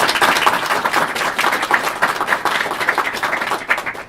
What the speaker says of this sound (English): Let's have a big round of applause for our winners of the day.